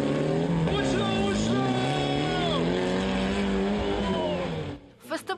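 Old junk cars race in a car battle event at an outdoor festival ground in Prykarpattia, engines loud and revving continuously with wavering pitch, crowd voices and talk underneath, cutting off into a brief quieter pause with clatter at the end.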